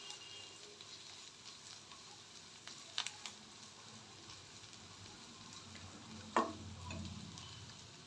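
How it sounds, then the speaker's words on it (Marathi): Onion and chillies fry in a pan while upma is made, a faint, steady sizzle running throughout with a couple of brief clicks and a louder clatter near the end. "कांदा लवकर भाजला जातो."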